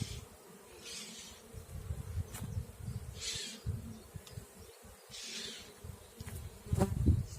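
A dense, continuous hum of many honeybees buzzing close by at a hive, with young bees emerging en masse and individual insects droning louder as they pass.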